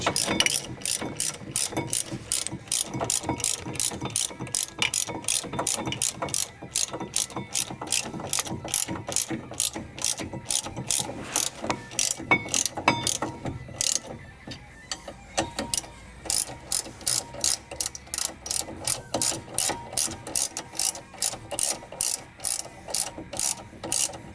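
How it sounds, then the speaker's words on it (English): A hand ratchet tightens front brake bolts on a 2013 Dodge Dart, giving long runs of rapid, crisp, close clicking that pause briefly and resume. "So I'm gonna attach them with the regular ratchet first"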